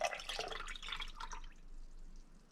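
Buttermilk poured into a glass, a soft close trickling and splashing that fades out after about a second and a half, quiet overall.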